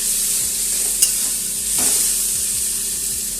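Radish curry with sugar gets stirred in a pan over a loud, steady sizzle, the spoon scraping in a few soft strokes with one small knock near the start.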